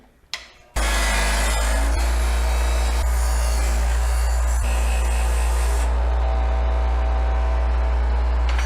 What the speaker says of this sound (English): I'm gonna use the wire wheel to scuff up the chrome.